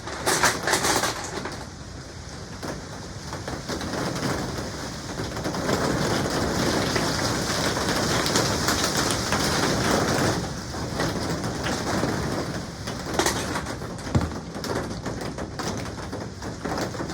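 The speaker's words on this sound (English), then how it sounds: "Still raining." Steady rain falls around a greenhouse, a dense even hiss of drops that runs throughout, with a few brief sharper knocks and faint bird calls in the background.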